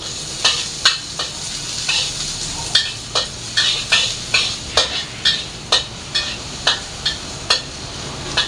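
Garlic sizzles in hot oil in a pan, a continuous frying hiss punctuated by a regular series of sharp spatula taps and scrapes, close and fairly loud.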